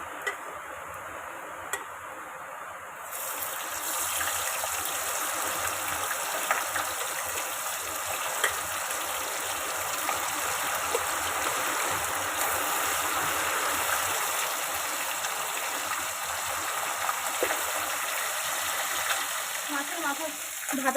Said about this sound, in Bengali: এবার মাছের মাথাগুলো ভেজে নেব।